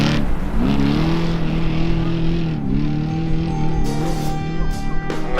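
Baja 1000 off-road race vehicle pulling into the finish line at night, its engine droning loud and steady with shifting revs throughout, near and continuous with no talk over it.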